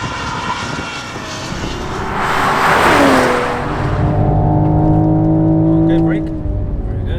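A Toyota Supra with an eight-speed gearbox sliding under hard driving, its engine note swelling and dropping as the car drifts, loud and close throughout, with a passenger talking over it.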